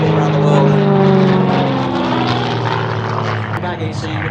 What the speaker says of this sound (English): a flight grid really, an aerobatic airplane, but also a tourer